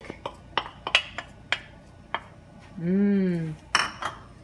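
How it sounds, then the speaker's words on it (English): Garlic stirred in hot oil in a pan for a Thai sweet and sour vegetable stir-fry, heard as a series of sharp utensil clinks and scrapes against the pan, with a brief tonal squeak partway through. "You see Chef stirring the garlic, waiting for the aroma."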